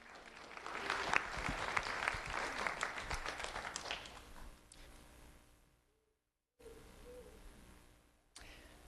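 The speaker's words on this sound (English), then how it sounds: "Round of applause for Patrick Izzigary." Applause from an audience at a sheriff's office recognition event honoring a student, steady clapping for about five seconds before fading out, with a brief silence and softer room sound afterward.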